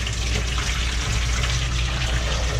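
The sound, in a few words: dirty water being poured out of a bucket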